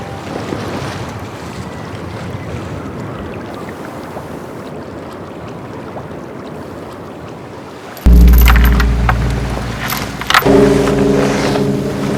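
Sailing boat at sea in a steady constant wind, with broad wind and wave noise first, then a louder, closer passage of rumbling hull and water noise with tonal hum in the last few seconds.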